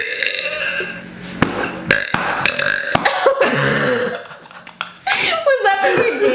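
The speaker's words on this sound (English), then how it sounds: "I just burped." A loud, close burp from a person rings out amid laughter and chatter, followed by more giggling and talking.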